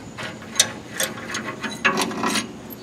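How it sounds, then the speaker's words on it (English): Ratcheting clicks from threading out the front spring rod by hand on a Pontiac GTO, a quick irregular run of close, sharp mechanical ticks with brief pauses, no talking. "So I'm just gonna thread out the rod now from the middle."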